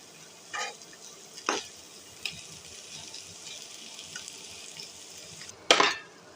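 Boiled chicken pieces and potatoes are fried in a pan, making a low steady sizzle. A few sharp scrapes and clanks from a spoon against the pan stand out, with the loudest one near the end.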